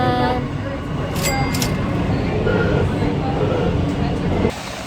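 New York City subway train heard from nearby, a loud rumbling roar with brief high squeals and a sudden drop as it passes, with voices talking over the noise.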